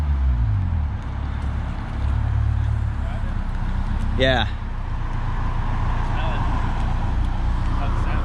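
A Honda S2000 fitted with a J's Racing test pipe gives off a steady low exhaust drone that holds evenly throughout, with a short sharp chirp midway and a brief spoken word over it.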